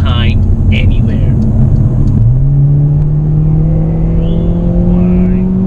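Engine of a 2020 Mercedes-AMG CLA 45 S 4Matic+ accelerating hard, a loud close droning note that climbs steadily after a brief gear change, with someone talking over it early on.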